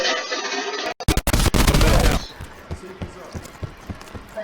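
SAUG 9mm submachine gun fire in Call of Duty: Black Ops 4: a dense, loud burst of rapid shots lasts about a second, then quieter game sounds and footsteps follow.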